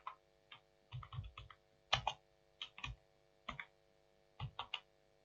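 Typing on a computer keyboard comes in short bursts of crisp key clicks, several quick taps grouped together with pauses between, close and fairly quiet in an otherwise still room.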